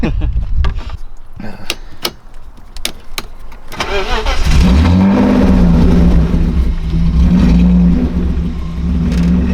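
A budget BMW car being readied for drifting gives a few sharp clicks, then its engine cranks, fires and settles into a loud, steady running idle close by.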